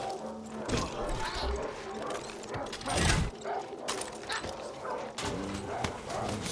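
Aggressive dogs barking and yelping in the video game Far Cry 6, several sharp barks and whimpers amid game effects and a voice talking.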